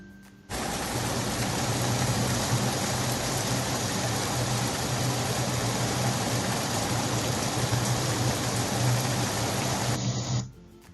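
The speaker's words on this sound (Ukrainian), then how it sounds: "це також дощ, але тут ми чуємо з вами зливу" Heavy rain pours in a dense, constant hiss for about ten seconds, starting and stopping abruptly, with a low steady hum underneath.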